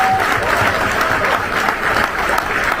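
An audience breaks into loud, steady applause at a ceremony honouring Tokyo Olympic medal winners, including gold medallist Neeraj, with thick, continuous clapping close up throughout and no talk.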